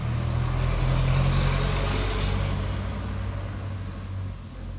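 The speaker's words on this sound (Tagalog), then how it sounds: "may jeep." A jeepney rumbles past on the road, a steady low engine drone that swells early and slowly fades as it moves away, with no talk over it.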